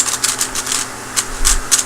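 Rapid, crisp plastic clicks from a Lingyun V2 speed cube being turned, a dense burst of clacks at first, then a pause and a few more sharp turns, loud and close with no talking.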